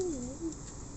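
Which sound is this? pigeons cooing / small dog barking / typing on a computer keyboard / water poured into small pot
pigeons cooing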